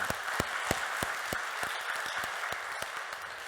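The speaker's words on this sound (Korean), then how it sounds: "우리 하나님께 영광의 박수 올려드리겠습니다." A church congregation applauds together after a prayer at a Sunday service, a steady wash of many hands clapping with sharp individual claps standing out, close and sustained throughout.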